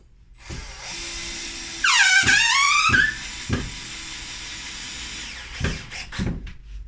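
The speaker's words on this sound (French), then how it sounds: "Je prends un peu à venir fixer mon autre vis." A power drill driving a screw into a kitchen cabinet during installation: a short, loud whirring burst that rises in pitch, followed by knocks and clunks of the wood and screw, close and without talk.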